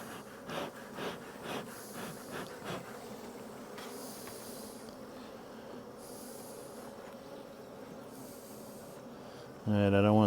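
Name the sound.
honeybees buzzing at an open neglected hive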